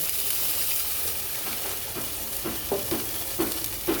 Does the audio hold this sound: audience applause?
no